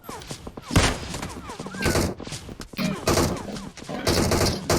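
Bursts of gunfire in the PUBG Mobile battle royale game, rapid automatic volleys separated by brief gaps, loud and close, with a voice talking faintly underneath.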